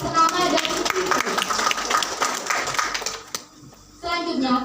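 Audience clapping at a student debate competition, lively hand claps with children's voices mixed in, dense and close, then fading out briefly before a voice speaks at the end.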